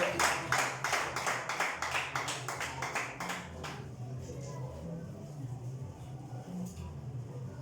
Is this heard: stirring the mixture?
no